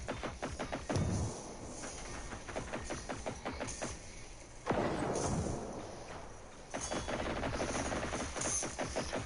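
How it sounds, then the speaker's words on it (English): A hacked machine in Generation Zero fires sustained rapid automatic bursts, loud and close, broken by short pauses and heavier thumps, with no talk over it. "He's shooting the one that I hacked."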